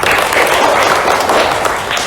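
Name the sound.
class applause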